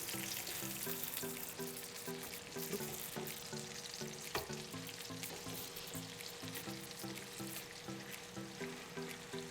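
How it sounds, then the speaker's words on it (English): Salisbury steak patties searing in a hot pan, a close, steady sizzle with soft crackles, alone without talk, over a faint repeating musical pattern. "It's looking like a really good sear going on there."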